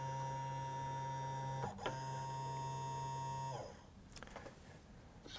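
An AMP press homes to locate its X0 axis position, giving a steady electronic whine with tonal hums, a brief click near two seconds, then a stop around three and a half seconds followed by faint clicks.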